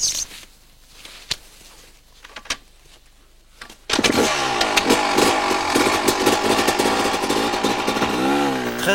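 An enduro motorcycle climbs a steep off-road hill, its engine surging suddenly to a loud, sustained roar with rising and falling revs after a quieter few seconds of scattered knocks.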